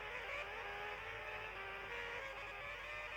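Formula 1 cars racing around the Qatar Grand Prix circuit in an F1 video game, a steady continuous engine whine holding at moderate level along the straight, without a clear pass-by or gearshift, no talking.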